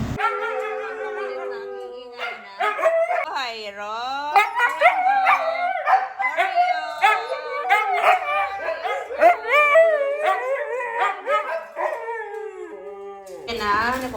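Several dogs bark, yip and howl excitedly together in a continuous, overlapping chorus, close by and fairly loud.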